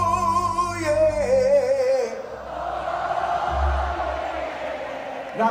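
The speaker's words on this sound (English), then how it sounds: "Let me hear you say, oh yeah." At a concert at Yaamava Resort & Casino, an amplified singer's call gives way to a large crowd roaring back in unison, a sustained wash of shouting and cheers over low stage music.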